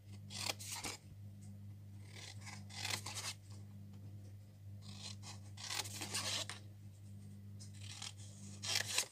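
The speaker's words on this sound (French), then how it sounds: "vous découpez toutes les petites languettes" Scissors snip through paper to cut small tabs on a paper Advent calendar box, a series of close, crisp cuts in irregular bursts over a low steady hum.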